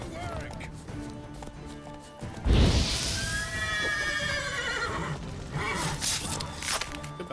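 A horse neighs loudly in The Witcher 3 as the rider dismounts, a long whinny with falling pitch followed by hoof movement and game ambience, with a voice talking over it at points.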